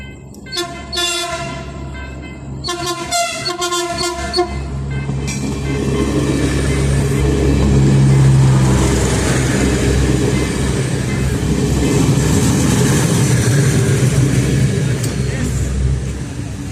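A TCDD train rumbles past at Selçuk station, Turkey, its horn sounding in several loud blasts at the start before the heavy rolling noise of the cars fills the rest.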